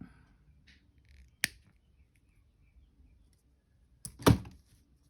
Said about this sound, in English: Snip that.